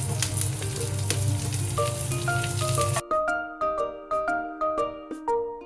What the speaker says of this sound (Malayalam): പെരുംജീരകം, നല്ല ജീരകം, സ്പൈസസ് എല്ലാം ഇട്ട് കൊടുക്കുക. പിന്നെ അതിലേക്ക് ഓണിയൻ സ്ലൈസ് ചെയ്തത്